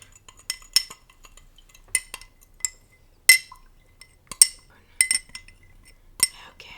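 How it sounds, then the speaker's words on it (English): A spoon vigorously stirs honey-sweetened lemonade in a glass, striking the sides in bright irregular clinks and taps that come in quick bursts against a quiet, close background. "And it requires a more vigorous stir, especially for our natural sweeteners like honey."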